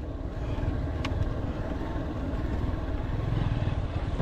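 A motorcycle rides along a dry river valley in a remote Kunlun Mountain wilderness, its engine a steady, loud, continuous rumble with rough low-end texture and no voices.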